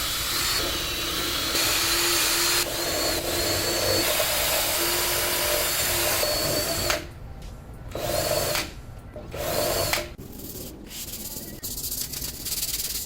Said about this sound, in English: I'm gonna be using a unibit to get the holes the size of these factory holes